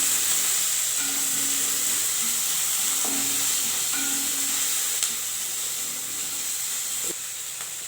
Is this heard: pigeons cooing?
no